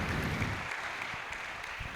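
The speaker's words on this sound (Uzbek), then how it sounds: "qarsak qilib tursanglar" Audience applause at an Uzbek education master class on Digital SAT changes, a broad steady wash of clapping from a large hall, moderately loud and continuous throughout.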